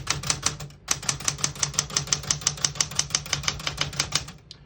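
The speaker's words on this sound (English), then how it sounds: "all the keys type nice and none of them skip or stick" Rapid, even clacking of keys on a 1971 Smith-Corona Super Sterling portable manual typewriter, about twenty crisp strikes in steady rhythm, close and loud, with a brief pause early on.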